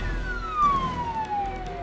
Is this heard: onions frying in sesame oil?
no